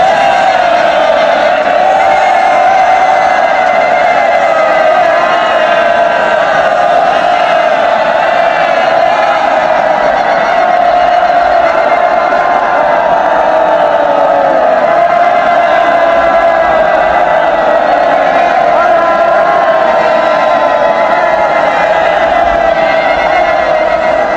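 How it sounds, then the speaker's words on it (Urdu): A large crowd in Kufa, part of a film scene, cheers and celebrates in a loud, continuous roar of voices with shouts and whoops sustained throughout. "بجاؤ تالیاں، جشن مناؤ، خوشیاں مناؤ۔"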